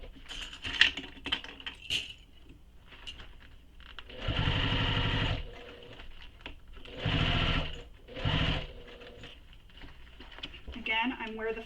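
Sewing machine stitching around the curved edge of a Brewster belt bag, running in three steady bursts of a few seconds each with short pauses between, close and clear, with a few faint handling taps around them.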